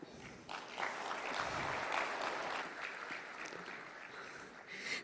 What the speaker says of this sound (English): let's wake ourselves up with some claps